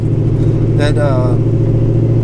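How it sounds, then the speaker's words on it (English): A V8 engine with a TFS stage 1 performance cam idles with a low, steady rumble close by while a person briefly speaks over it. "you like the cam? How the cam sounds?"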